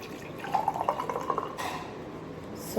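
Water poured onto ice cubes in a glass, a soft, continuous liquid trickle with a few bubbly drips, fairly quiet and close, ending in a brief clatter.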